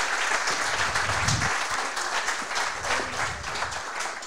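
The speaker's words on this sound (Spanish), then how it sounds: "Un aplauso para la alcaldesa." Applause for the town mayor at a live broadcast event in Sabiñánigo, a crowd clapping steadily and fairly close, with some scattered low voices and cheers under the clapping.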